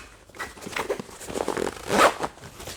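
A zipper on an Alpaka Metro crossbody bag is pulled in several short, scratchy bursts, ending in one louder, longer zip near the close, with no talking.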